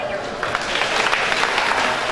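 Audience applause at a Taiwanese-language speech contest for children in Erlin, Dacheng, Fangyuan and Zhutang, a steady wash of clapping from parents and grandparents, with speech or voices mixed in.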